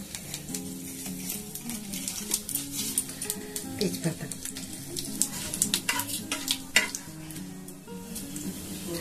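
A split chilli and a bay leaf fry in hot oil with a steady sizzle while a spoon stirs and taps the pan, under continuous talk.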